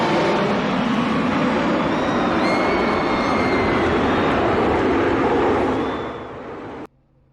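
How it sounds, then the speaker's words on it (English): Jet aircraft fly over a race track before a USA Pro Cup Series stock car race, a loud, steady broadband roar that holds for about six seconds and then fades before cutting off. "Jets flying over"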